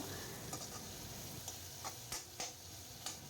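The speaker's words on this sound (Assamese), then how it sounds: "এতিয়া আলুখিনি অলপ ভাজি ল'ম।" Faint, steady frying hiss of potatoes with turmeric, with a few sharp clicks of a utensil against the pan, quiet and close, no voices.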